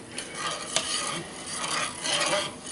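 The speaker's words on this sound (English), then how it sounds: "reason it's not boiling over is because I'm stirring it" Steady bubbling and scraping of a spoon stirring mesquite bean jelly boiling hard in a pot on a stove, continuous and close, with occasional louder swishes.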